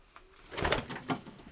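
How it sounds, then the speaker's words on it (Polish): Pigeons in a breeder's loft, a few soft throaty coos in a short cluster at close range, no talk. "No, dużo tych gołąbków po prostu jest."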